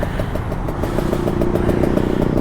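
An older Kawasaki Ninja RR 150 two-stroke motorcycle engine revving up close, a loud, raspy, steadily droning note with a rhythmic rattling pulse.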